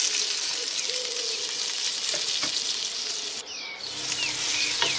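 Onions frying in hot oil in a pot, a steady close sizzle and crackle throughout with small pops, no talking.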